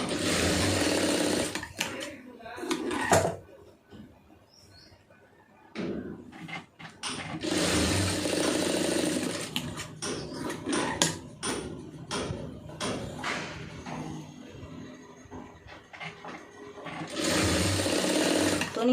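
Domestic sewing machine stitching a quarter-inch folded hem on cross-cut fabric, running in steady mechanical bursts separated by short pauses, with a voice talking between runs.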